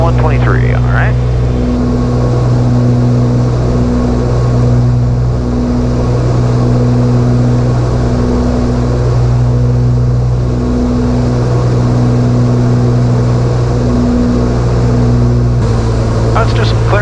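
Twin-engine Cessna 310 droning steadily at cruise power in flight at 21 inches and 2300 RPM, a loud continuous cabin hum with pulsing propeller beat throughout, with people talking over it.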